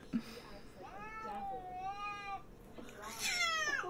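A cat at the vet meows loudly and caterwauls in drawn-out, wavering yowls, several long cries rising and falling, close and fairly clear against a quiet room.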